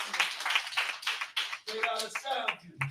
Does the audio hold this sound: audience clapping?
yes